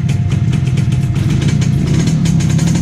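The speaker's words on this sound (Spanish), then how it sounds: "vamos a probar la moto con el escape original" A Motomel AX100 motorcycle runs on its original exhaust, a loud, close, steady idle with a low, rapid thumping pulse that continues unbroken for a few seconds with no voices.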